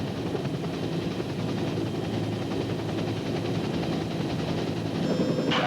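Military helicopters flying in tactical formation, their rotor thump and turbine whine forming a loud, steady drone throughout, with a brief higher whine rising near the end.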